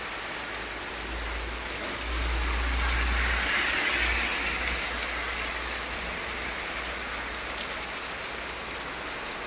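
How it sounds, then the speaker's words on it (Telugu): Heavy night rain pours down over a town in a steady, dense hiss, with a low rumble swelling briefly partway through. "వర్షం భారీ వర్షం"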